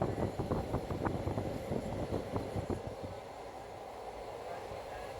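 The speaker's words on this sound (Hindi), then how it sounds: "देखो हमारी ट्रेन भी चलने लग गई है।" A passenger train getting under way on the rails, with a steady rumble and rhythmic clacking that is strongest early on and then settles into a quieter, even roll.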